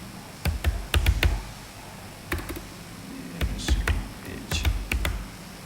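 Code typed on a computer keyboard, close clicky keystrokes arriving in short bursts with brief pauses between them.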